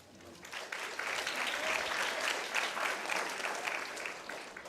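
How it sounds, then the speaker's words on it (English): Sustained applause from an audience at a high school winter and spring sports banquet, steady clapping from many hands filling the room at moderate level throughout. "another round of applause for these young men"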